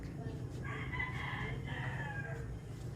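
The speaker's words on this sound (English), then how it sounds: "We also have some free-range chickens." Free-range chickens roam a permaculture farm garden as a rooster crows once at moderate distance over a steady outdoor background.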